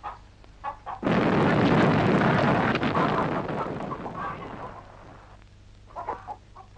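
A blasting charge set in rocky farmland goes off with a sudden loud, broad roar that rumbles on for several seconds and slowly dies away, with a few faint bird clucks before and after.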